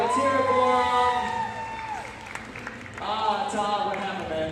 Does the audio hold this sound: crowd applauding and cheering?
yes